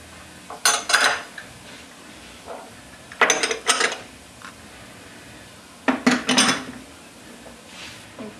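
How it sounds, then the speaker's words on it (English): A spoon scrapes and clinks against a pot of beer cheese soup as it is stirred, in three separate bursts of metallic clatter with quiet gaps between them. "Stir that really well. Make sure that everything is incorporating with one another."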